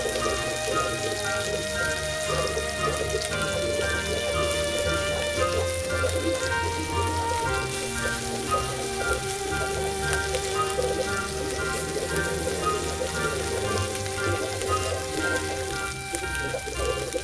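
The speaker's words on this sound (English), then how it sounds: "Let them fry until they turn golden brown, flipping occasionally for an even crispy" Lentil balls frying in hot oil, a dense, continuous crackle and sizzle like heavy rain, loud and close throughout, with faint kitchen background.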